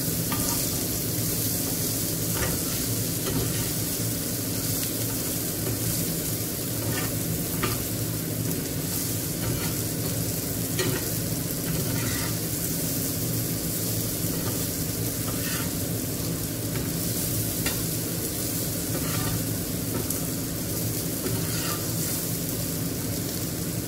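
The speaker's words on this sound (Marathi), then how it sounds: "चणे थोडे हलवून घेऊया आपण।" Kabuli chickpeas fry in a pan with a continuous, even sizzle, while a spoon stirs them now and then with soft scraping strokes, close and fairly quiet.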